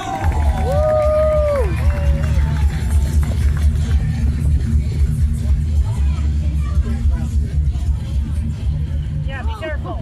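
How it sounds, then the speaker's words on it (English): A crowd at an ATV big air show cheers and claps amid outdoor babble and low engine rumble, a steady loud wash of noise with a few whistles early on. "One more round of applause for Jake Coho!"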